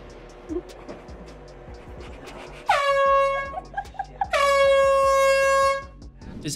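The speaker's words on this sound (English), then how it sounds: "These students prank their teacher by putting on an air horn under his chair." An air horn hidden under a teacher's chair in a classroom prank lets out two loud, blaring blasts, one short and one held for about two seconds, with faint background chatter and movement around them.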